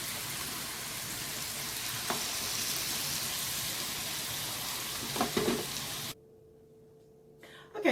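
Pork chops searing in a pan give a continuous close crackling sizzle with a few sharper pops, then the sound cuts away to near silence for the last couple of seconds.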